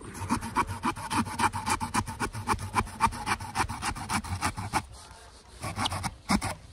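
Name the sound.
Victorinox Swiss Tool Spirit saw cutting wood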